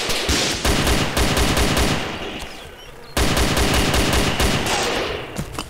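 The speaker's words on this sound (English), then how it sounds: "I was shooting the ghillie guy, and he was shooting me" Loud, rapid automatic gunfire in the video game DayZ, heard in two long sustained bursts of dense shots separated by a brief pause, with quieter scattered shots between.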